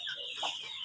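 An Elba hen gives a single brief, nasal cluck close by, short and fairly faint.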